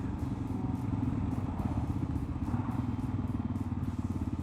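A KLR 650 motorcycle fitted with an aftermarket header accelerates uphill, its engine giving a steady, rapid low thumping pulse with a rough, throaty exhaust note and faint wind rush, without talk.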